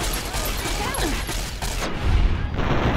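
Rapid bursts of laser weapon fire in the Fallout video game, a dense, loud crackle of repeated shots running for about two seconds, then a heavy low thump, with game noise throughout.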